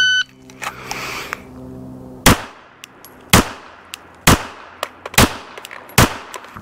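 Live-fire gunshots on a range during a dot torture drill: five loud, sharp, close reports spaced about a second apart, each with a quick decaying tail, after a quieter stretch of background noise.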